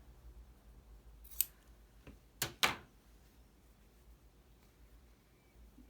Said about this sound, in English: It's a little on the long side, so I'm going to chop it off.